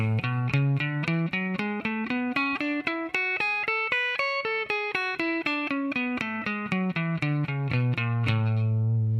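Guitar alternate-picking a major scale with slides, up and back down in even single notes with a bright, slightly effected tone, ending on a held low note.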